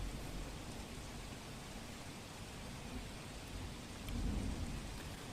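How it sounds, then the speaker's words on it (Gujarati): Unseasonal rain falls over Bhavnagar in Gujarat as a soft, steady, distant hiss, with a low rumbling swell rising near the end. "આપ જુઓ વરસાદ જે રીતે વરસ્યો છે"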